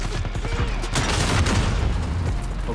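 Rocket launcher explosions and gunfire in the shooter Modern Warfare: a loud, continuous rumble of blasts and crackling shots with no clear gaps, all packed into a few seconds.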